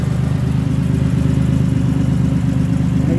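A 2006 Chevy Impala LT 3.9 engine with a broken exhaust runs close up with a loud, rough, rumbling exhaust drone, steady and throbbing throughout.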